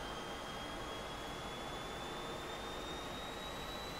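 MiG-15 jet engine running up in the DCS flight simulator game, a steady loud roar with a thin whine that climbs slowly in pitch, continuous throughout.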